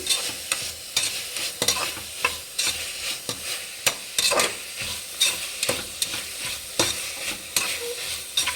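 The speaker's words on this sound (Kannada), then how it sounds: "ಕೊತ್ತಂಬರಿ ಸೊಪ್ಪು ಪುದೀನ ಸೊಪ್ಪು ಚೆನ್ನಾಗಿ ಫ್ರೈ ಮಾಡಿ" Fresh coriander and mint leaves frying in oil for egg biryani, a steady close sizzle with repeated sharp stirring scrapes and clinks of a spoon against the pan throughout, with no talking.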